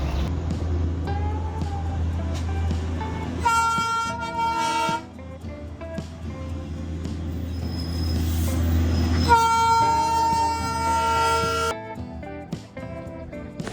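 A Darjeeling Himalayan Railway toy train's horn sounds in two long, loud blasts over the steady rumble of the running train near Batasia Loop.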